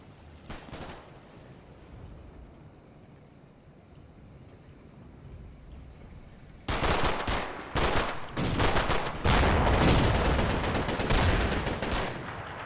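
Deployed gun firing in a Verrières Ridge war video game, loud rapid bursts of gunfire kicking in after a quieter stretch of distant battle noise and continuing in dense volleys to the end.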